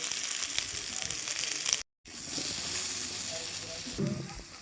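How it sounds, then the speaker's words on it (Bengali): Steady hissing sizzle of potatoes frying in hot oil, close and continuous, broken by a brief silent gap, with faint stirring sounds near the end. "আমি আলুটা ভেজে নেবো।"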